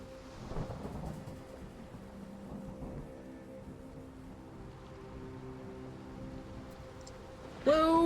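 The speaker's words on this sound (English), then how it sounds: "It's a really piss poor version of the rain and wave sounds." Soft, steady hiss of video game rain and washing waves, thin and synthetic, with a low hum underneath and a sudden brighter tone near the end.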